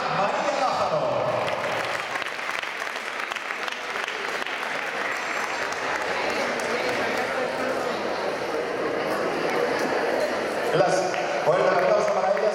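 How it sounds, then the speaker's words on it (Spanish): Sustained audience applause at a gymnastics competition podium ceremony, dense clapping holding steady for the whole stretch with voices and crowd noise mixed in beneath it. "un aplauso para ellas"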